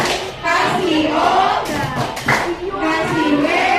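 Primary-school pupils in a classroom clap their hands in quick bursts while many young voices chant together in rhythm, the claps mixed into the lively group sound.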